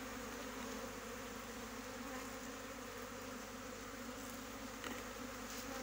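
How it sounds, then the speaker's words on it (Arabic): A faint, steady buzz of many honeybees as a swarm goes into a hive, a continuous drone with no talk. "باش النحل ديالنا يدخل ليا في وسط الخلية"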